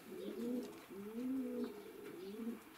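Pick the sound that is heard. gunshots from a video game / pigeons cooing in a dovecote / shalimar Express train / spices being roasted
pigeons cooing in a dovecote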